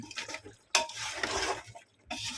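Mutton curry with fresh coriander being stirred in a pot, giving a few scraping, sloshing strokes with faint sizzling between them, close and fairly quiet, no voices.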